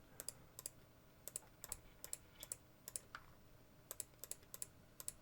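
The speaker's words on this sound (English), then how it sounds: "I'm just busy clicking away" Computer keyboard typing in short clustered bursts of crisp clicks, with one brief higher click, fairly quiet and close, with no talk over it.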